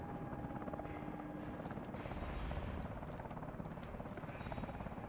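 A helicopter in Call of Duty Advanced Warfare drones continuously with dense rotor chop, loud and close, mixed with scattered gunfire in the background.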